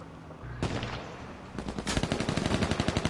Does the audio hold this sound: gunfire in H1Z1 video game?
yes